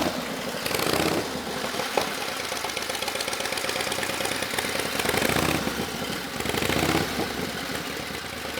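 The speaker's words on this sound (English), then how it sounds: "Here it is again, my Cannonball bike, 1929 Harley JDH." A 1929 Harley-Davidson JDH two-cam Cannonball motorcycle engine with a homemade stepped exhaust runs close by, a steady lumpy idle with slight swells in revs and no voices.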